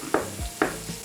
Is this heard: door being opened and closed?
no